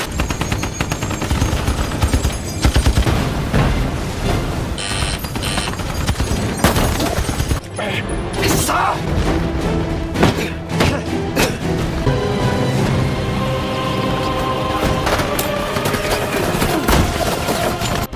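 Film battle scene of soldiers in a bunker firing at the enemy: dense, loud bursts of machine-gun and rifle fire with heavy thumps and booms, continuous and chaotic throughout, mixed with a dramatic soundtrack.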